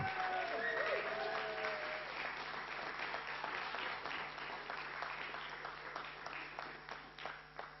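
A crowd at a consulting case competition applauds the winning team, sustained clapping from many people that starts full and slowly thins and softens over several seconds, with individual claps becoming more distinct toward the end.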